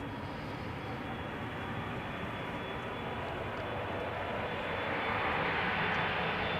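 Jet airliner taking off from Schiphol's Polderbaan runway, a broad roaring engine rush that swells steadily louder as it nears, alone without voices.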